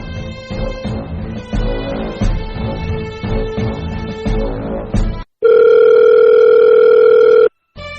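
A loud electronic phone melody plays for several seconds, then cuts to a long, steady telephone tone.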